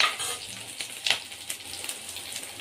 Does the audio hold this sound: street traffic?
no